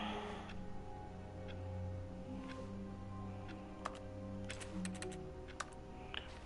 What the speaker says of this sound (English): Pressing the X button makes like a keyboard sound.